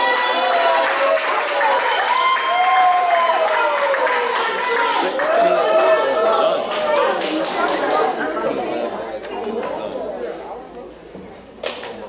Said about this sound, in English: let's give another round of applause for those beautiful children that just came up.